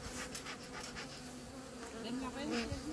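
Honeybees buzzing densely and steadily close by while they are moved from one hive into another, with smoke used to drive them upward; the hum swells slightly toward the end.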